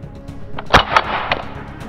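A pistol fired at a large water drop hung in the air gives one sharp, loud crack, followed by a couple of smaller snapping clicks in a short, otherwise quiet stretch.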